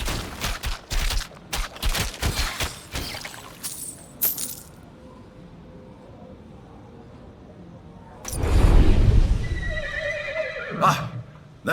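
A horse neighs and whinnies in the Titan Quest II video game, a loud close call near the end after a run of sharp hits and a quieter stretch.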